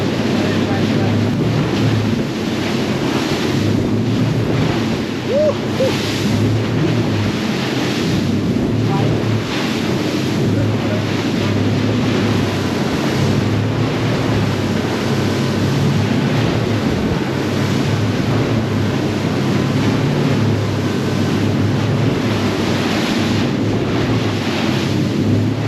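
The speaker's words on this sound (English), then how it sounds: "I'm literally standing on the edge right now, breaking these waves" A 2022 HCB 53 Suenos boat plows through waves at sea, with a constant loud rush of water and wind buffeting the microphone, rising and falling gently.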